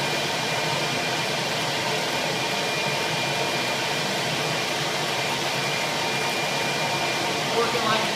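Homemade bee vacuum running while sucking up plastic pieces, a steady loud broadband whoosh of airflow and motor hum sustained evenly throughout, with a small bump near the end.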